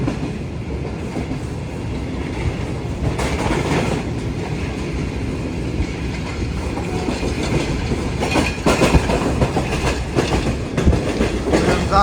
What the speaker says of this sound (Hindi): तो ट्रेन हमारी तकरीबन 4:30 बजे पन्नों के रेलवे स्टेशन को स्किप करने के लिए जा रही है।